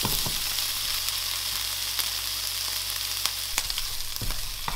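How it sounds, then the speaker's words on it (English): Bacon strips sizzle steadily in a pan for a hot dog topping, a dense continuous frying hiss with a few sharp pops and crackles scattered throughout, close and fairly loud, no voices. "I'll just throw in some bacon too that I just cut into strips. We'll start that cooking as well."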